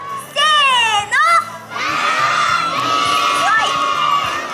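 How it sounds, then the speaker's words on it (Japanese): Children in an outdoor festival stage audience shout the mascot Caroppy's name together in a loud, high chorus. Two short bursts come first, then a longer sustained call with mixed voices and crowd noise. "皆さん、キャロッピーに届くように心を込めて呼んであげてください"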